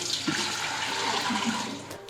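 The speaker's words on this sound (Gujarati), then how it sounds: "હવે આપણે ગોળાને ભરી લઈશું" Water pours steadily into an old clay water pot, a continuous rushing, splashing flow heard close up and alone throughout.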